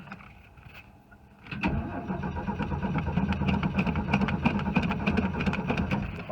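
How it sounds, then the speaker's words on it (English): A Ford F150 pickup with a 300 inline-six and four-speed is cold-started: a short crank, then the engine catches and settles into a loud, steady, slightly lumpy idle close by. "Here's a cold start video of my grandpa's truck."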